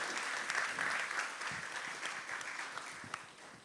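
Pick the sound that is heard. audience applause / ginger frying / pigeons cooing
audience applause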